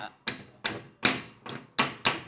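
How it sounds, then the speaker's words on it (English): Six sharp hammer strikes ring out at an uneven pace, each bright metallic hit decaying quickly, close and loud with no talking, while removing a tow hitch from a Land Rover Discovery. "I think we're going to need the hammer"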